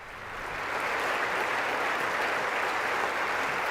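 Sustained applause from a large audience in the House chamber during a Speaker of the House contest, a dense steady roar of clapping that swells in over the first half second and holds at full strength.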